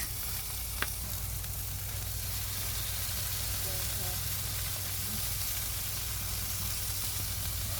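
Jerk pork and chicken sizzle on a barbecue grill in a steady, loud, close hiss that runs unbroken throughout, with a single brief tap early on.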